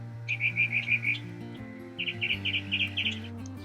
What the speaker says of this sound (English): We're on a quest to find this bird with a beautiful voice.